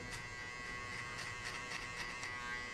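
An electric hair clipper buzzes steadily and fairly quietly throughout while trimming a mid taper fade haircut, with faint rhythmic flicks over the continuous hum.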